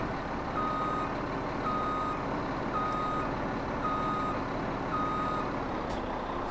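In Farming Simulator 17, a truck's reversing alarm beeps in an evenly spaced series of steady tones over a constant low engine rumble, with no one talking.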